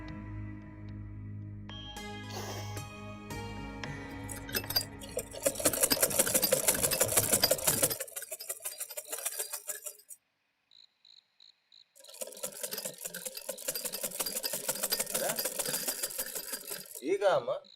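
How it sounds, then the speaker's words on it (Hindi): A sewing machine stitches at night in a quiet home, running in loud bursts of rapid mechanical clatter with a pause in between, and a voice speaks briefly at the start. "रात को सिलाई काहे कर रही हैं?"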